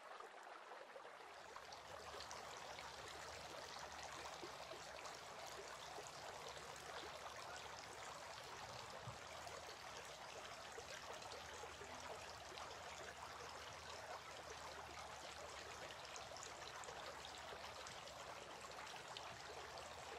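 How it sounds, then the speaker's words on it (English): Water pours and trickles continuously during ablution as the forearms are washed, a steady close splashing stream holding at an even level for about twenty seconds with no speech. "Then he took a handful of water and washed his right forearm, and again took another handful of water and washed his left forearm."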